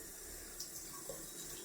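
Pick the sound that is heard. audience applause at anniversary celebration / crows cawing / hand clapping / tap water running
tap water running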